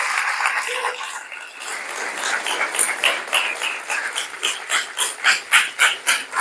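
A church congregation claps together during a sermon, a loud crowd applause that settles into a steady rhythmic beat and grows stronger toward the end, with no talk over it.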